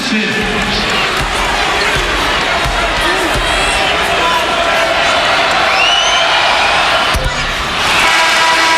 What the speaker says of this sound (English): this is a pretty spirited crowd in here tonight in Chrysler Arena